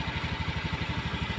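Honda Beat 2017 scooter engine idling with a steady, rapid low putter, a regular pulsing thump close by and alone, no voices over it.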